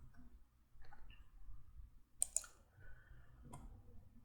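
A computer mouse is double-clicked while working in Microsoft Excel: two quick, sharp clicks close together stand out over faint room noise, followed by a softer lone tick a moment later.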